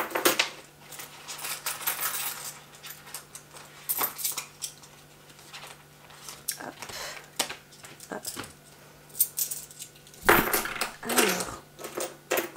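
Euro coins are handled and counted by hand, giving close, scattered metallic clinks and jingles throughout, with a louder cluster of coin clatter near the end and no voices.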